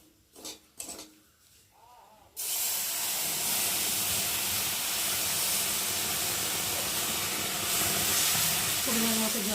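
Water poured into semolina in a hot pan bursts into a loud, continuous hiss and bubbling sizzle after a brief quieter moment of clinks and handling, the steamy rush then holding steady to the end.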